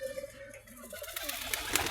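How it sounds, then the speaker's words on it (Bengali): A pigeon coos near its pair of young squabs at a home loft, a low, soft rolling call in a few murmuring phrases, with faint rustling and scratchy noise toward the end. "এই কবুতরটা সেই ডাকাডাকি করতেছে।"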